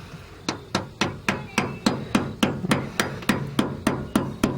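A hammer taps a brake line holder into place during a big brake upgrade on a B15 Sentra, with about fourteen evenly spaced, fairly loud metallic strikes in a steady rhythm.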